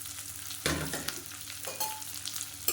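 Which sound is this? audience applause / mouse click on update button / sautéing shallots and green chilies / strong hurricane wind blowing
sautéing shallots and green chilies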